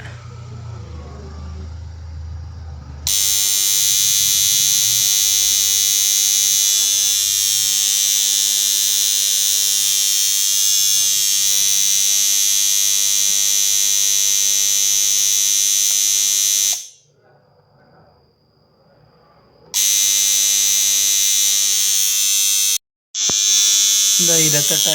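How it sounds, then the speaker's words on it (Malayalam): A semi-automatic washing machine buzzer wired to a timer switch gives a loud, steady electric drone that cuts out briefly and then resumes. "ഇതൊരു വാഷിംഗ് മെഷീൻ്റെ സെമി ഓട്ടോമാറ്റിക് വരുന്ന ബസറാണ് കൊടുത്തതാണ്."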